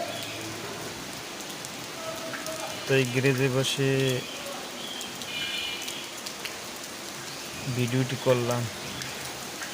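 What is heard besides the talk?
rain during a Kalbaishakhi storm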